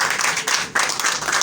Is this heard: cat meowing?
no